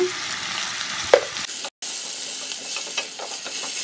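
Tomato and onion sautéing with salt, chilli powder and spices in a pan give a close, continuous sizzling hiss with light stirring, broken by a brief dropout midway; nobody speaks.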